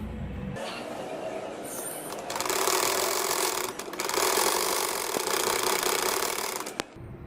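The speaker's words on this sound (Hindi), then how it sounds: "इसी तरह दूसरी साइड पर भी सिलाई लगाऊंगा।" An electric sewing machine stitches the side seams of a six-month baby boy's shirt, running in close whirring bursts with a brief pause midway and a small thump near the end.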